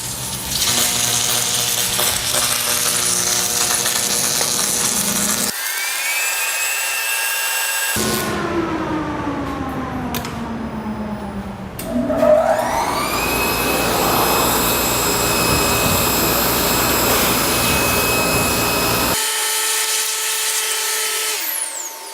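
Submerged arc welding machine running a weld with hand-laid flux, a loud continuous mechanical hum and whine with shifting tones, broken by brief quieter gaps.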